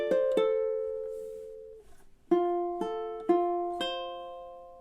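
Ukulele playing measure 12 of a song: a single strum ringing out long, then a quieter gap and four more evenly spaced plucked chords, clean and close.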